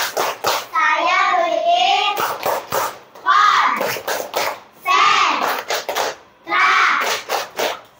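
Children in a classroom perform a rhythmic focus clap, chanting lines between sharp patterned bursts of handclaps that repeat in several short rounds.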